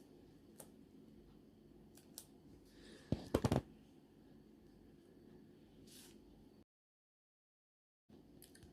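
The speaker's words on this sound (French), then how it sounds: "Que je prenne ma bonne paire de ciseaux" A good pair of scissors snips through paper or card for a handmade birth announcement, a few quiet crisp clicks and a short cluster of cuts in a hushed room, with a brief silent gap.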